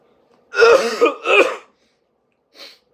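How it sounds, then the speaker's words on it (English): A person coughs twice in quick succession, close and loud, followed by a brief quieter clearing of the throat after a pause. "Sorry, I had to cough."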